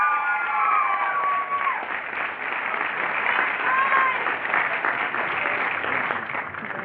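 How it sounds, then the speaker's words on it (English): A crowd applauds at a multicultural leadership day opening session, steady clapping mixed with some cheering and whoops; a few whistle-like tones appear early on. "Come on up and give him a round of applause."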